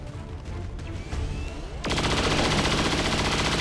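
Rapid burst of automatic gunfire from a soldier's weapon in the video game XCOM 2, loud and dense, coming in after a short stretch of game sounds.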